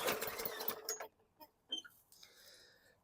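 Recoil starter cord on a direct-injection lawn mower yanked hard, a rough rasping burst of cord and mechanism followed by a few faint clicks and knocks as the engine fails to fire.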